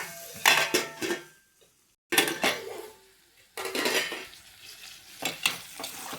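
Alasanda (cowpea) pods frying in a pan, with a soft sizzle and repeated clinks and scrapes of a metal spoon against the pan, separated by short quiet pauses.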